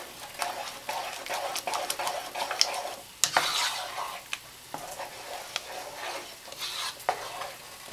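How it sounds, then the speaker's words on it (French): A spoon stirs Moroccan harira soup in a sizzling pot, with a steady frying hiss and repeated sharp scraping clinks against the pot, fairly quiet and close, with no talking. "il faut mélanger très vite"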